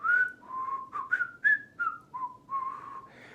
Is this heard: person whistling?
yes